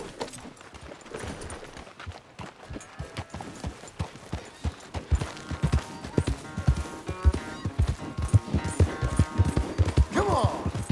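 Horse hooves clip-clopping in Red Dead Redemption 2 as a rider takes a spirited horse for a run, a steady rhythmic clatter that quickens and grows louder, with occasional brief voices over it.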